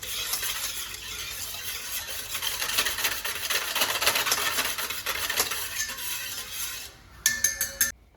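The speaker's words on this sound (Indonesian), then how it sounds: "Ini tinggal diaduk rata saja." Egg and water dipping batter being stirred in a bowl for crispy fried chicken, a steady scraping, sloshing whisk rhythm close up, ending with a few sharp clinks of utensil against the bowl.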